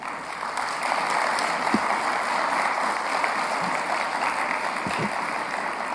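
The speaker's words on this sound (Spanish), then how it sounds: "Un fuerte aplauso, por favor." Steady applause from a crowd at an insurance industry forum panel in Guatemala fills the room, a dense wash of clapping that holds evenly throughout.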